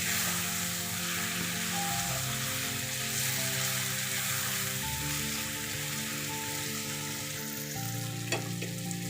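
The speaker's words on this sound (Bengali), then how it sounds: "এবার চিকেনটাকে ভালো করে কষিয়ে নিতে হবে।" Chicken sizzling as it is sautéed in a pan for a yogurt chicken dish, a steady close-up frying hiss with a low background hum and occasional stirring clinks.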